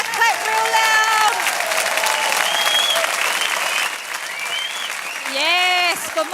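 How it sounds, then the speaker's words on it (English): A conference audience stands and claps loudly on request at the Brave Hearts session, with steady, dense applause throughout, whoops and whistles rising near the end, and voices mixed in. "put your hands together, clap real loud"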